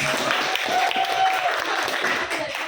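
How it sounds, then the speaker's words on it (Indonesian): A classroom of students claps hands for a student group, a dense, steady patter of applause with a faint tone running underneath for a moment. "Tepuk tangan dulu WS Rendra"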